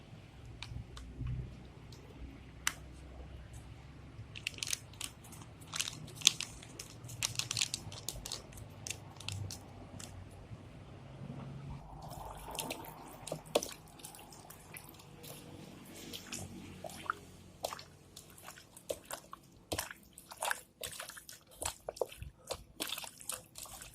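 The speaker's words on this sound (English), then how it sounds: "Mix the barbecue marinade" Pork meat being mixed by hand with barbecue marinade gives soft wet squelches, sloshes and sticky clicks, scattered and fairly close, with no talking.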